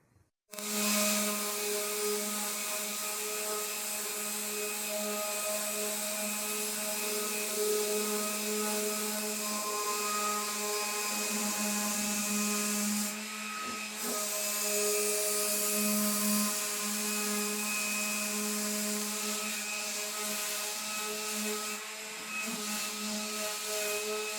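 Power sander running on white oak during a nightstand build, a continuous loud whine with strong steady tones that holds almost unbroken, dipping briefly midway before resuming.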